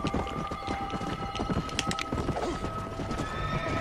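A horse in Red Dead Redemption: Undead Nightmare neighs and gallops, rapid hoofbeats drumming steadily with a loud whinny cutting through, close and continuous.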